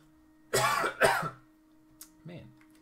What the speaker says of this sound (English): a little bit of a cough. Haven't coughed all day.